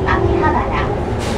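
A train pulling into a station in Tokyo: a loud, continuous low rumble and hum of the rail car, with a voice heard over it.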